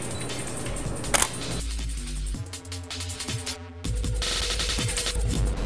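Camera shutter firing with a Phottix Strato TTL remote flash trigger during a studio portrait session, several sharp clicks and a brief burst standing out against steady room noise.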